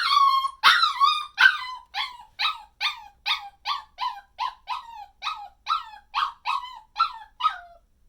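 A puppy in a crate whines and yips in a rapid series of high-pitched, repeated cries, about fifteen in a row at a steady rhythm, close and alone.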